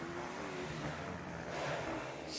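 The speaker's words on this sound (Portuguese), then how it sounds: "Olha o barulho da moto do Hector." A distant motocross motorcycle engine, its exhaust tip lost, whines and drones steadily at a race, with a faint rising tone partway through, over a background rumble.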